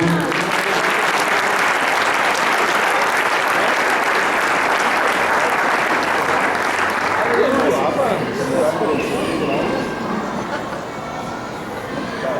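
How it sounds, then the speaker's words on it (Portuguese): A church congregation at an Easter service applauds, a loud sustained wash of many clapping hands that gradually thins and softens toward the end, with some voices mixed in. "Louvado seja Deus. Você pode aplaudir ao Senhor?"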